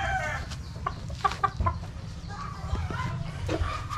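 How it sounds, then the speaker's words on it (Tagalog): Chickens cluck close by while feeding, with a steady low rustle of birds moving and pecking underneath and irregular calls rising over it throughout. "Ganado lahat ng mga manok kung paano sila kumain."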